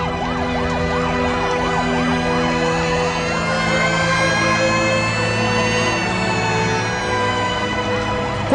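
A fire engine siren wails in a loud, continuous, rising-and-falling tone over a steady engine drone, heard without speech in a scene from a TV drama.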